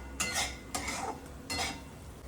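Masala sizzling in oil in a pan while being fried until the oil separates, heard as three short bursts of scraping and clattering from stirring in the pan over a low steady hiss, close by.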